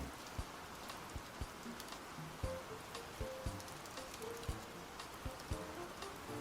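Steady rain pours down in the farming game Fields of Mistria, a dense, even hiss with scattered sharper drop taps and a few faint chime-like tones, no talking.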